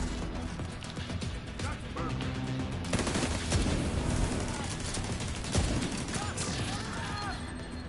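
Turrets in a video game fire continuously at enemies, a dense rattle of rapid gunfire with a few heavier bursts that runs without a break for several seconds and is mixed with game sounds.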